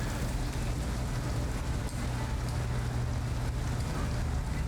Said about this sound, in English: Seems very familiar to a street in heavy rain.